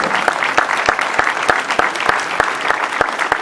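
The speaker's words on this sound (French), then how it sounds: "Je vous demande encore une fois de les applaudir" An audience applauds at a black-and-white photography exhibition opening: a dense wash of many hands clapping at an even level, with sharp, regular louder claps from one nearby person standing out throughout.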